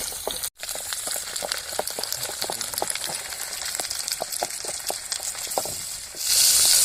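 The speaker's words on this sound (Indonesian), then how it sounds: "Jadi ini yang digoreng tuh ada 3 jenis. Yes. Ada ikan, belut, sama tutut." Fish, eel and freshwater snails frying in hot oil give a continuous close sizzle dotted with popping crackles, briefly cut off once and then rising into a louder hiss near the end.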